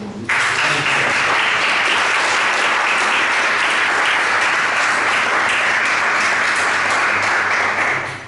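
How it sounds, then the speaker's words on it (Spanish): A church congregation applauding at a Spanish-language service, with loud, steady clapping that begins almost at once and keeps going at an even level for the whole stretch, with no talk over it. "Dale un fuerte aplauso."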